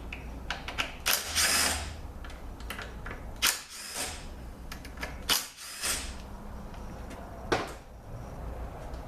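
Short bursts of a handheld power driver spinning out Torx T30 bolts on a Ford 10R60 transmission's start-stop accumulator, several separate whirring runs with pauses and small metallic clicks between, close up.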